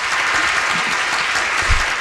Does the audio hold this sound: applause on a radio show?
yes